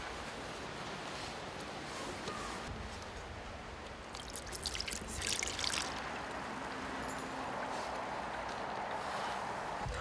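Lye water made from wood ash is poured through a cloth filter into a pot, a steady, close trickle and splash that swells briefly midway, with no talking.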